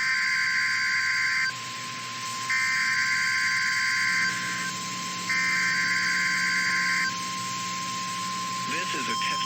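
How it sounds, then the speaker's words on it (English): NOAA weather radio warning alarm test: a loud, steady high-pitched alert tone holds continuously, while a second electronic beeping tone switches on and off in a regular pulsing pattern alongside it. "This is a test of the NOAA weather radio warning alarm device."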